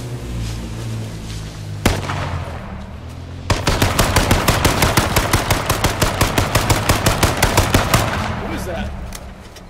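Rapid automatic gunfire rattles in a multiplayer shooter game, loud and close. A single shot comes first, then a long steady burst of regular rounds runs for several seconds before stopping.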